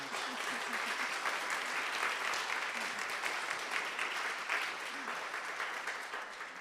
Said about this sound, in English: So I think that's worth another round of applause.